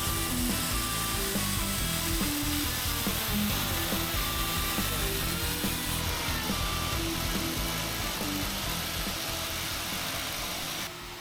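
Continuous loud grinding of a pre-forged Damascus steel blade's bevel on a belt grinder, a steady abrasive whir that runs without pause and drops slightly at the very end.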